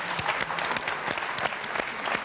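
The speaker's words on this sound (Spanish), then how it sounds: "Un aplauso, por favor." A television talk-show studio audience applauds steadily, a dense, even wash of many hands clapping close and loud throughout, with no talking.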